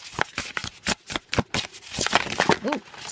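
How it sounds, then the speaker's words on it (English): A tarot deck is shuffled in steady, rapid bursts of card riffling and slapping, close and fairly loud, with no talking. "I don't know if that's Spirit's way of shuffling the deck"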